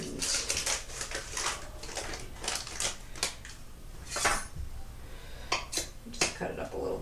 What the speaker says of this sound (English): a cup of butter, which is 2 sticks. And I'm going to cut it up a little bit so that it melts faster